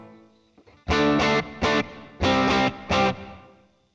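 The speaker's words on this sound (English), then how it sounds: "I'm gonna throw some reverb in there. Just a little bit of, just do standard room reverb." Electric guitar played through a tc electronic Ampworx DC30 preamp with standard room reverb: five loud, distorted chord stabs in a choppy rhythm, each cut short, then a faint reverb tail, with no talk.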